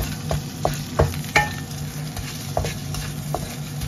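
Garlic fries in a pan with a soft, continuous sizzle near at hand, broken by a few sharp clicks and scrapes of stirring, and no one speaks.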